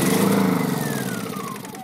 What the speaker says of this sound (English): Engine goes off.